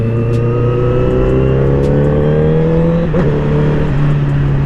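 A Honda CBR 1000cc motorcycle engine revs steadily and loud up close, a sustained drone with a brief dip in pitch partway through, no talking.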